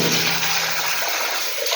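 Cold water runs and splashes loudly from a tap, a continuous broad rush that stays steady throughout, with no one speaking.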